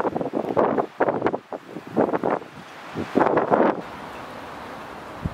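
Strong winter storm wind at a farmhouse during snow and ice, surging in loud irregular gusts that batter the microphone, easing between bursts and settling into a softer steady rush near the end, with no talk.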